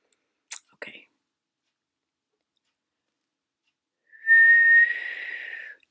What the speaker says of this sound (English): I'm going to try to whistle.